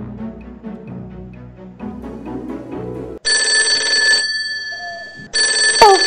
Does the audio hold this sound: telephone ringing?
yes